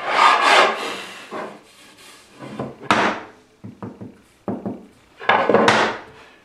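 Hand plane taking fine cuts along a wood edge: several short swishing strokes with brief pauses between them, close and moderately loud, with no talking.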